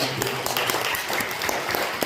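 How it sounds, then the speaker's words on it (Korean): Brief clapping from a church gathering right after a closing prayer, a steady patter of hands with some voices mixed in. "박수."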